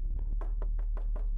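Knocks on a door in the video game Welcome to Kowloon, about six evenly spaced hollow raps close up, with no talking.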